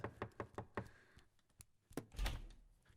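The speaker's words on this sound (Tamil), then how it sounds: "யாரோ கதை தட்டுறாங்க." Knocking on a door in a Tamil horror film scene, four quick sharp knocks in a row, then a pause and a couple more thuds with a heavier bump.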